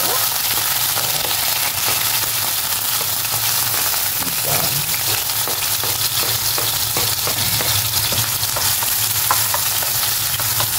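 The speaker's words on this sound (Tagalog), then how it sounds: "So, ganyan lang ang paggisa ng ating mga ingredients." Ingredients sauté in hot oil in a pan, a loud, dense and unbroken sizzle with rapid crackles and repeated scraping strokes of stirring throughout.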